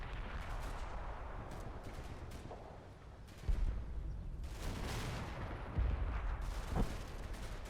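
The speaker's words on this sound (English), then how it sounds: "I have to see if that's mortar rounds, 3-inch or 2-inch." Gunfire and mortar rounds in the Combat Mission WWII game, Normandy hedgerow fighting: steady crackling fusillade with several heavy booming impacts, distant to mid-range.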